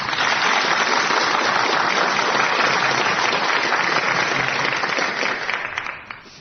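Studio audience at the Brain of Britain 2006 radio quiz gives a dense, sustained round of applause for the winner, loud and steady throughout before tapering off at the end.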